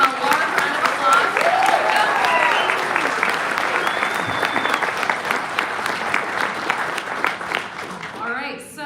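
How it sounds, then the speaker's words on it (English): A convention crowd at a New York Comic Con 2024 Hasbro panel applauds steadily for a first-time panelist, dense clapping held for several seconds with voices and cheers mixed in, tapering at the end. "Let's give him a large round of applause."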